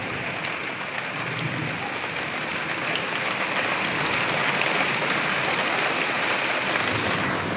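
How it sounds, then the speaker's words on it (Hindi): Heavy rain pours steadily over flooded village fields during an afternoon downpour, a dense, even hiss that swells slightly louder partway through, with no voices. "बहुत तगड़ी बारिश आ गई"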